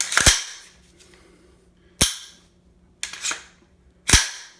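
An AR-15 rifle's T-style charging handle is racked and the trigger dry-fired, giving four sharp, isolated metallic clacks spaced about a second apart, close and clear with quiet gaps between.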